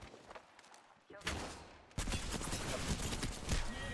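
Video game gunfire crackles through a busy firefight, quieter at first and then bursting into a loud, dense stretch of rapid shots with a wash of battle noise behind it.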